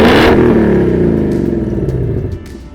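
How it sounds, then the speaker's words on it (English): A loud, deep V8 engine roar with rumbling exhaust from an S550 Ford Mustang GT rises and holds steady, heard from inside the car, with no talking. "get that roar of that V8 and that amazing, awesome sound of the exhaust"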